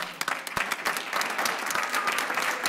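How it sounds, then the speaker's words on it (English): A round of applause fills a county board of supervisors meeting, dense steady clapping from the room audience throughout, no talking over it. "So let's give a round of applause."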